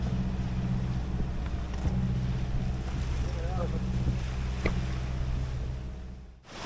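A sailboat's engine drones steadily at close range while motoring past Felixstowe, with wind buffeting the microphone and water rushing past; no one speaks.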